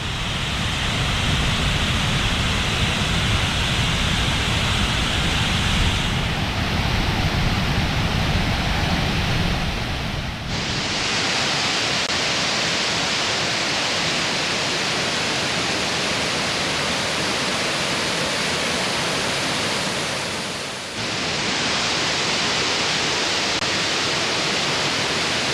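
Ranger Falls in Savage Gulf, Tennessee, flowing heavily, a dense, steady roar of falling water that stays loud and unbroken throughout, with shifts in tone as the listening position changes and no voices.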